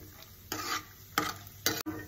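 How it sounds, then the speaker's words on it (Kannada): Semolina roasting in ghee over a low flame, with soft sizzling and a few louder scraping stirs of a spoon through the grains at intervals. "ರವಾನು ಸಣ್ಣ ಉರಿ ಮೇಲೆ ಇದನ್ನ ಮಾಡ್ಬೇಕು ಫ್ರೈ ಭಾಳ ತನಕ ರವಾ ಹುರಿಬೇಕು ನೀವು"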